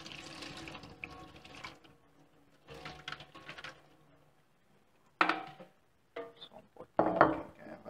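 Leucaena seeds being strained out of hot water in a bowl, with splashing pours, a brief running trickle and clinking of kitchenware in bursts separated by quiet pauses, close and fairly loud with no talking.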